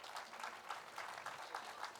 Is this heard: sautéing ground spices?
no